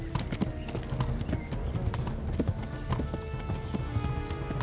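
Horse hooves clip-clop steadily in the video game Kingdom Come Deliverance, a close, regular trotting rhythm that runs through the whole stretch with faint background sound and no talk.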